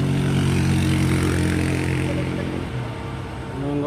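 Two trailer trucks overtake each other on a steep hill road at Bukit Kodok, their heavy diesel engines roaring loudly and steadily in a dense, close drone that eases slightly near the end.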